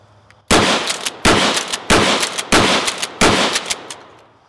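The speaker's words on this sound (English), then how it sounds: "what's the best way to destroy a campaign sign? A healthy dose of birdshot." A Mossberg Shockwave pump shotgun loaded with birdshot fires five loud, close blasts at a campaign sign, roughly one every seven-tenths of a second, each with a sharp report and a brief ringing tail, with no talking.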